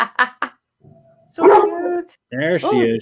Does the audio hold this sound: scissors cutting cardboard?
no